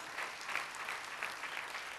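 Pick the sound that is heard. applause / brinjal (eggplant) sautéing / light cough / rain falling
applause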